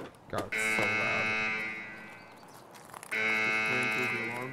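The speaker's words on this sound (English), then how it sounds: "Just waiting till the alarm is over." A loud, harsh electronic alarm in the video game Escape from Tarkov blares in two long sustained bursts separated by a short break, with faint voices underneath.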